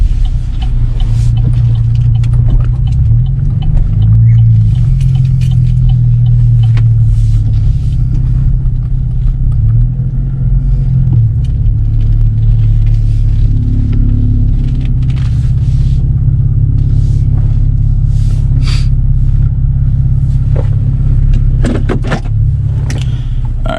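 Chevrolet Camaro V6 with an MRT V1 exhaust, a loud deep steady rumble with a few brief rises in engine pitch, recorded close with no talk.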